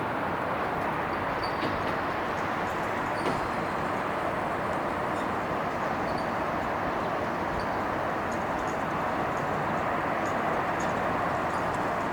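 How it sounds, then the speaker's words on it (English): A CSX freight train rolls by below an incline in Pittsburgh, a distant, steady low rumble with faint metallic squeals and a wash of city traffic, continuous throughout without talk. "Down there, that's a CSX train."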